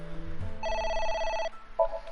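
A telephone in the video game AI: The Somnium Files rings with a bright, trilling electronic tone held for nearly a second, then starts a second burst, heard clearly over low background music.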